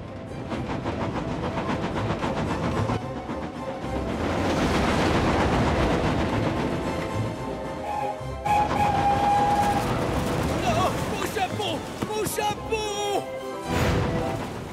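Spencer, the silver cartoon steam engine from Thomas and Friends, races along the rails pulling wagons, with a continuous loud rolling rumble and clatter under a musical score, and brief voices in places.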